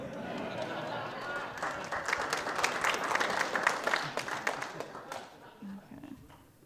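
Audience at a quarterly business meeting clapping: a swelling round of applause from a modest crowd that builds and then fades, with a voice talking over it.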